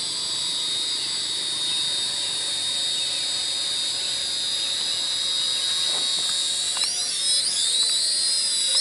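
An F69 budget camera toy drone flies at its second speed setting, giving a steady, loud high-pitched rotor whine throughout that wavers and shifts in pitch near the end.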